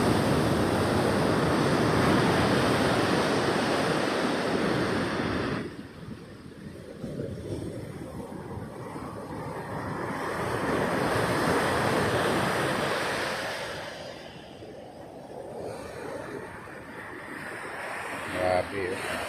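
Large ocean waves surge and crash onto the shore under an overcast sky, a loud continuous roar that swells and recedes in long cycles, with wind buffeting the microphone.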